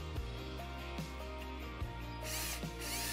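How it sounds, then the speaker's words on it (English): A power drill bites into a timber deck to make a slight starting indentation for a spigot screw, whirring in short repeated bursts with brief pauses between them, close and clear with no talk. "Just make a slight indentation in your deck. Try to make sure it's the center of the hole and keep the drill as straight as possible."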